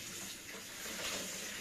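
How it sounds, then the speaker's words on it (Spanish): A kitchen tap runs steadily while hands are washed during home bread-making, giving a constant soft hiss of water with no talking. "Me voy a lavar un poco las manos."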